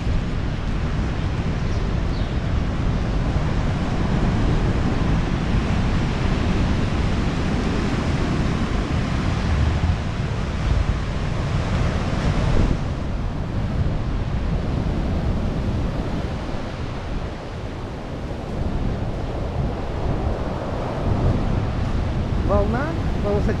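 Storm waves crash at the central pier in Lazarevskoye, a heavy continuous surf roar mixed with wind buffeting the microphone, steady and loud with little letup.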